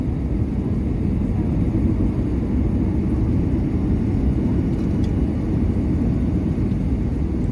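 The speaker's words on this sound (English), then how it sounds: "as we made our landing at Roanoke Blacksburg Regional Airport" Inside an airplane landing at Roanoke Blacksburg Regional Airport, a steady, loud, broadband engine roar and cabin rumble continue without a break.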